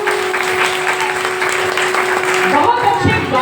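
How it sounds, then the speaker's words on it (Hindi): An audience at a Shrimad Bhagwat Katha applauds, steady clapping filling the space while a voice talks over it, with the clapping thinning toward the end. "एक बार वैभव के लिए जोरदार तालियां।"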